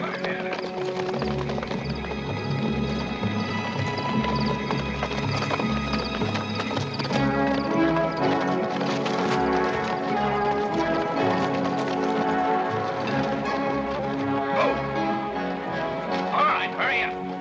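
A horse gallops with steady clip-clop hoofbeats and whinnies in a Western adventure film's finale chase, the hooves continuous and fairly loud under a full orchestral music score.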